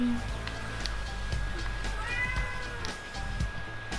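A cat meows in a room during a Fortnite deathrun session, its cries clear over steady background noise from the game.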